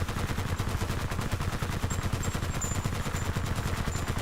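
A mounted machine gun in Battlefield: Bad Company 2 hammers out a steady, unbroken stream of rapid shots, loud and close throughout, with faint high pings of spent casings or ricochets.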